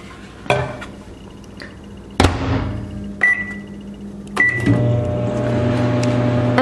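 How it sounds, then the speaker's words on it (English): A kitchen microwave oven heating homemade playdough for a few seconds: button beeps and door clunks ring out, then a low steady hum settles in as it runs, close and alone. "we're gonna put it into the microwave for 5 to 10 seconds"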